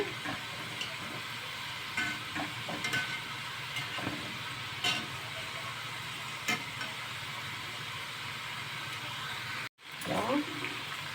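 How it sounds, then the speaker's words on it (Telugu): Chana dal chegodilu (crispy lentil dough rings) frying in hot oil while being stirred: a steady, close sizzle with occasional utensil clinks and a brief cut near the end, as someone talks. "ఇలా తిప్పుతూ ఫ్రై చేసుకోవాలండి ఈ నొరగంతా తగ్గే వరకు ఫ్రై చేసుకోవాలి"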